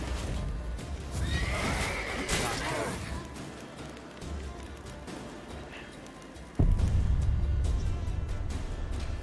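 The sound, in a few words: horse whinnying in video game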